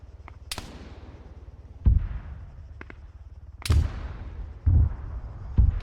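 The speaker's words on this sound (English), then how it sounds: "That mortar is absolutely caking the AO, which is great to have" Mortar fire in the military shooter Arma 3: several heavy booming impacts spaced a second or two apart, some distant thuds and sharp cracks over a steady low rumble, with no talking.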